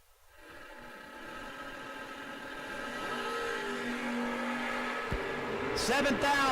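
Drag racing cars at a no-box bracket event, one an Oldsmobile, build a rising engine roar that swells steadily and ends in a sharp high-pitched burst as a launch hits, with an announcer talking over the whole stretch.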